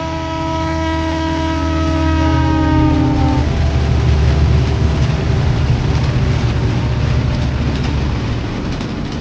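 A Konkan Railway train sounds a long, loud multi-tone horn that cuts off after a few seconds, followed by a heavy, continuous rolling rumble close by.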